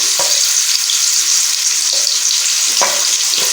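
Onions fry in half a cup of warm cooking oil in a pot, giving a loud, dense, continuous sizzle that runs throughout. A few faint stirring knocks sound near the start and end, and no one speaks.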